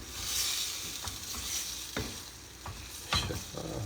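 Shrimp sauce with stock and honey being stirred in a pan, a steady sizzle running throughout with several sharp scraping strokes of the spoon against the pan, close and fairly loud, no voices.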